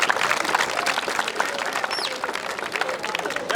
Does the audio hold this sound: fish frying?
no